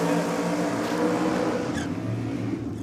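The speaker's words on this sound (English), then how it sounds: "Supercharged 400 cubic inch Chev power for the Hypernova" A supercharged 400 cubic inch Chevrolet-powered Nova drag car engine at a nitro drag event roars loudly and steadily throughout, a deep sustained blower-fed rumble with a brief rising whine near the end, no talking.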